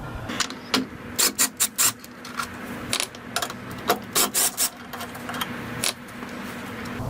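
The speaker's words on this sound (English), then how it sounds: "So the first step to replacing the intake is to remove these two 10mm bolts." A ratchet loosens two 10mm bolts on the intake of a BMW E90, giving quick bursts of sharp metallic clicking in several short groups, close up with no talk.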